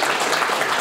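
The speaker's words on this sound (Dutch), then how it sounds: "Dus een extra applaus voor uzelf" Audience applause at a certificate ceremony for course participants, a dense steady patter of many hands clapping throughout a short moment, fairly loud with no talk over it.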